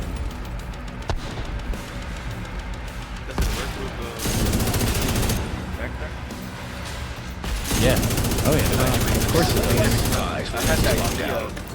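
Bullet King light machine gun in The Division 2 firing in dense sustained bursts alongside other game combat noise and effects, loud and close, with brief pauses between volleys.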